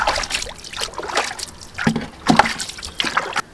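Water sloshing and splashing as an iron cooking vessel, a paniyaram pan, is scrubbed and rinsed by hand, with intermittent trickles and splashes in short bursts, close by and alone.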